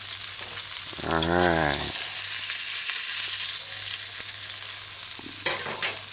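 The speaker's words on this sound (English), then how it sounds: "So you just allow it to fry properly." A fish patty fries in hot oil on a stovetop for a homemade fish sandwich, giving a steady loud sizzle throughout, with someone speaking briefly over it near the start.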